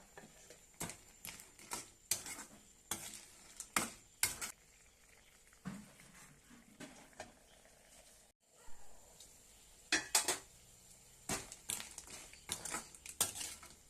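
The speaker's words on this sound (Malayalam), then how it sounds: "ഒന്ന് ഇളക്കി കൊടുക്കുക." A spoon stirs a pot of Kerala-style crab curry with water added, giving intermittent close clacks and scrapes against the pot in irregular bursts over a quiet simmering background.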